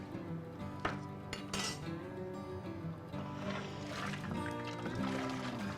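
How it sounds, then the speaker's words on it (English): Five pounds of carrots tumbling into a big soup pot, a cluster of knocks and clinks followed by continued rattling and shifting, fairly close and with no talk over it. "Now we're gonna come in with our 5 pounds of carrots."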